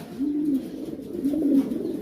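Silver stencil pigeons cooing nearby, two low, rolling coos in succession over quiet background noise.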